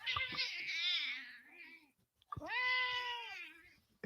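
A domestic cat meows twice, two drawn-out, wavering cries separated by a short pause, close and fairly loud with no talk.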